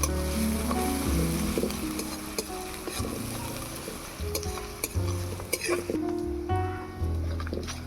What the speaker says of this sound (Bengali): কাঁচা লঙ্কা কুচি আদা রসুন পেঁয়াজটাকে লাল লাল করে ভেজে নেব